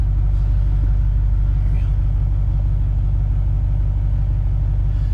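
A steady low diesel drone from a Duramax truck engine with a replaced exhaust stack fills the cab while driving, a constant rumble that holds evenly throughout.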